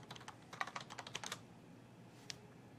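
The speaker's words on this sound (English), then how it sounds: "Now just type git glog." Soft, quiet keystrokes on a computer keyboard as a short command is entered: a quick run of a dozen or so clicks, then one last isolated press after a pause, with no voices.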